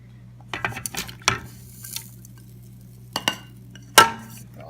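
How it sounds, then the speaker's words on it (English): A spoon stirs ham brine of salt and dark brown sugar in a pot, giving scattered clinks and scrapes against the container with quiet gaps between them. "Just mix it up a little bit to get it stirring up."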